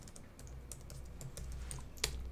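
A password is typed on a computer keyboard, a quiet run of quick irregular key taps with one sharper press near the end, close by and with no talk.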